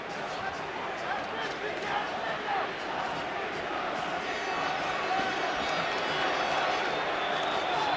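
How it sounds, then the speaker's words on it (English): Lively arena crowd at a women's boxing bout between Christy Martin and Collins keeps up a steady, fairly distant roar of cheering and shouting, under a commentator talking. "Crowd getting into the fight."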